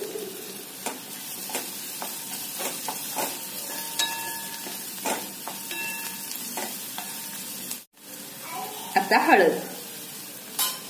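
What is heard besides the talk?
stir-frying rice tempering with coriander in a pan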